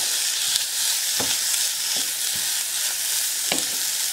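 Ground beef and garlic sizzle steadily in a hot pan, a continuous broadband crackle with a few soft stirring knocks scattered through it, close and fairly loud, with no voices.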